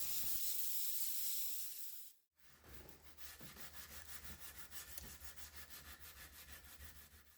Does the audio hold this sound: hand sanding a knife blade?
yes